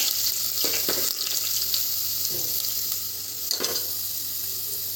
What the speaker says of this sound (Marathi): एक वाटी तेल टाकलं आहे त्या त्यामध्ये थोडं राई जिरं लसूण घेतलेला लसूण घेऊ द्या